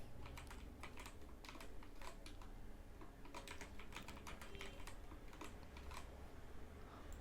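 Fingers tap out a password on a computer keyboard during a Docker setup, a quick irregular patter of light clicking keystrokes, close and steady throughout.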